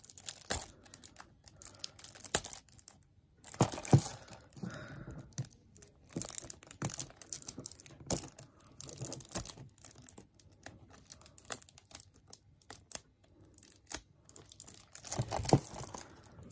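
Plastic wrapping being torn and crinkled off a PS4 game box for Marvel's Guardians of the Galaxy, in close, irregular bursts of ripping and rustling separated by short quiet gaps.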